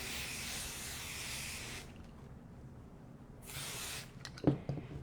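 Spray bottle misting fabric on a large self-binding blanket during sewing, two broad hissing bursts at the start and after a pause, followed by a few soft handling taps.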